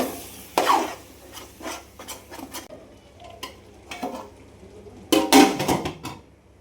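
A spoon stirs mushroom biryani in a cooking pot in short bursts of scraping and rubbing against the metal, with quiet pauses between them and a louder flurry near the end.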